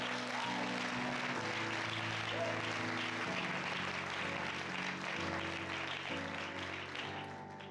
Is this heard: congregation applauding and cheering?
yes